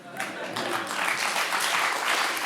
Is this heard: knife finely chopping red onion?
no